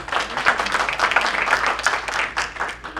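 An audience at a community gathering claps for a presenter, a moderate patter of many hands with uneven swells, fairly close and steady throughout.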